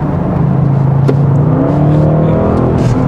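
A 2022 Audi RS 6 Avant pulls hard on kickdown in RS mode, its engine note loud and close, rising steadily in pitch as it accelerates with a deep continuous roar and no speech over it.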